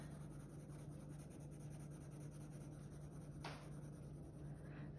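Coloured pencil crayon rubs steadily across paper while shading a yellow gradient, a soft continuous close scratching with faint strokes and no talk.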